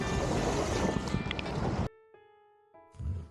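Rushing water and wind roar loudly at an icy stream crossing on a Himalayan mountain road, then cut abruptly to near silence with a faint hum before a brief rumble returns.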